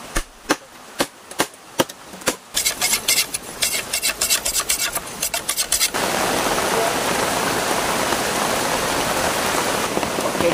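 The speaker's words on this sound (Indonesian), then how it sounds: "karena cuaca ini hujan deras, jadi kita terpaksa bikin tenda darurat." Heavy rain pours steadily in a forest, a dense, loud hiss that takes over after several sharp chopping knocks and rustling at the start.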